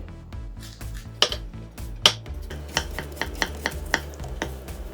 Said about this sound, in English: now let me start chopping the banana